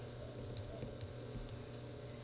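Someone enters a zip code on a computer keyboard: a quick, quiet run of soft key clicks over faint background hiss.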